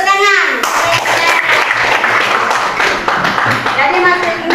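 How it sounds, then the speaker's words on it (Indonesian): Schoolchildren in a religious studies lesson clap their hands together in a quick burst, with young voices chattering and calling out loudly over the claps. "Tepuk tangan"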